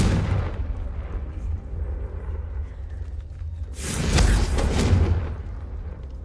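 Confringo explosive spell cast in the Hogwarts Legacy video game, a loud whooshing blast about a second long that rises out of a low rumbling game background, with no talk over it.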